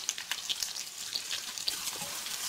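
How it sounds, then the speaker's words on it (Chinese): Shrimp coated in beaten egg fry gently in oil over low heat, giving a soft, steady crackle and sizzle with small scattered pops, close by and fairly quiet. "起锅烧油，把蛋液虾仁倒进去，小火慢煎"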